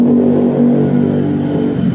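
Honda Tiger motorcycle engine running close by, a loud steady idle with a continuous hum that rises slightly at the end, with no talk over it.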